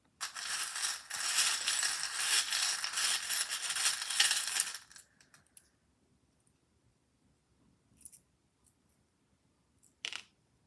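Tarot cards being shuffled by hand, a dense crisp riffling rush for several seconds, then quiet with a few faint isolated card clicks and taps.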